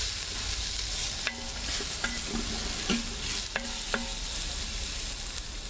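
Garlic cloves sizzle steadily in olive oil in an Instant Pot, a continuous close frying hiss broken by a few sharp clicks and scrapes of stirring, with no talk.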